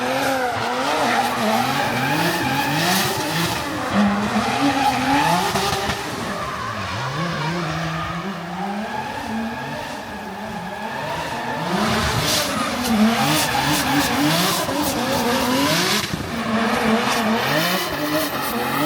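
Pro Formula Drift car drifting at a compound in Orlando, with sustained loud tire squeal and skidding over a continuously revving engine whose pitch rises and falls, close and without speech.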